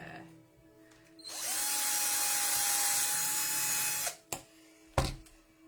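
A power drill whirs steadily for about three seconds, close and loud, then stops, followed by two sharp knocks.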